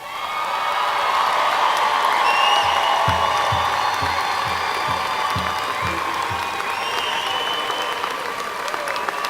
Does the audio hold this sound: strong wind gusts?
no